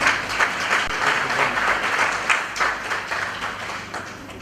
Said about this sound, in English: Let's give them a hand of applause.